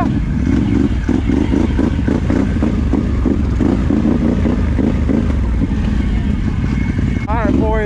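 A motorbike or four-wheeler engine revs loudly and close, with a rough pulsing throb that holds steady throughout, while people talk over it.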